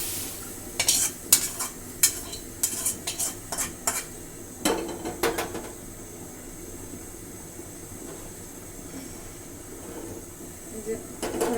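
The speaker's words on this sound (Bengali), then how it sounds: "এই যে কড়াই বসিয়ে দিচ্ছি," A metal wok is set on a stove, with a cluster of sharp clanks and knocks at first, followed by quieter occasional taps over a low kitchen background hum.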